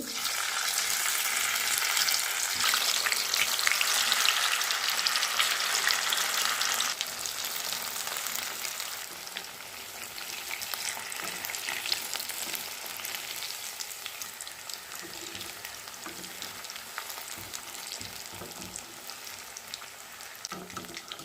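Fish fries in hot oil for a fish curry, a dense, continuous close sizzle that is loud at first and eases to a quieter, steady fizz about a third of the way through.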